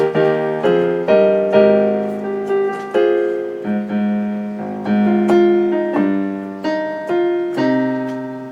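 A piano plays a short, stepwise melody of single notes and chords, each struck note ringing and decaying before the next, with no voices.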